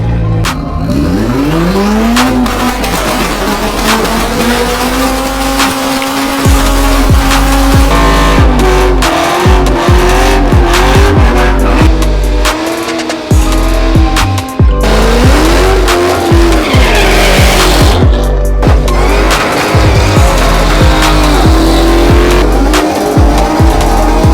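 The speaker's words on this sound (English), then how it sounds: "we're about to do the first ever test pass on this car" A Mitsubishi Evo race car engine roars loudly and revs up through rising pitches as it accelerates hard on a test pass, tires squealing, close and continuous with brief dips between gears.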